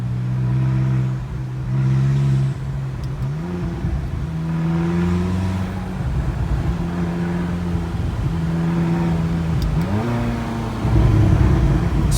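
A McLaren 570GT engine burbles from inside the moving car, a deep, loud drone whose pitch climbs and drops with several shifts, over steady road rumble.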